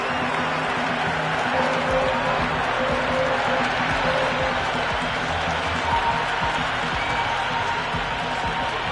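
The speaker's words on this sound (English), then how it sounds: "It's the most enthusiastic crowd you could ever see right now. There's a buzz, a real buzz coming from the stands." Crowd in the stands at a cricket match in the Cricket 26 video game, a dense continuous roar of cheering and murmur from a large crowd that holds steady and loud throughout.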